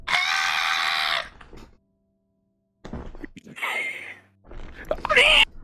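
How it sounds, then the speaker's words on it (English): High-pitched screams of Victory Bell in Pikmin 2, coming in short shrill bursts that rise and squeal, separated by a stretch of silence. "A sample of Victory Bell scream"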